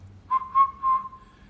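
A person whistles a short three-note phrase, clear and close, each note sliding smoothly into the next and then trailing off into quiet.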